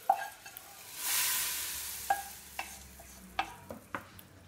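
Hot tadka poured into masoor dal gives a brief sizzling burst, followed by sharp scattered clinks and taps of a spoon or pot against the pan, close and fairly quiet, with no talk.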